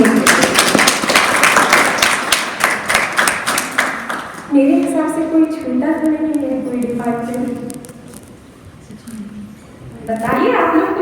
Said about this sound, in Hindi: जोरदार ताली दीदी लोगों को